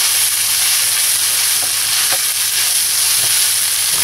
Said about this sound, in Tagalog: haluin lang natin to hanggang maging evenly distributed yung ating mayonnaise